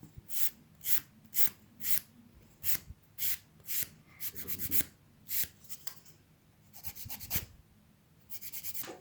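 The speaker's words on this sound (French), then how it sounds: "je prends ma lime douce et je vais venir faire les contours" A soft nail file working around gel nails and cuticles, brisk rhythmic rasping strokes in quick bursts of about a dozen, close and quiet, with no talk.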